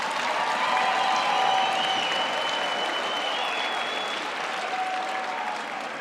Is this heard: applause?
yes